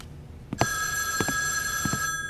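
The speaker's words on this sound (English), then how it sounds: "We usually don't get any phone calls during the interviews" An incoming call sets a telephone bell ringing in short repeated bursts, clear and close, with no one talking over it.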